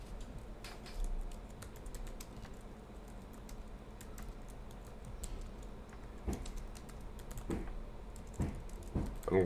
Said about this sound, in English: I'm typing it in right now.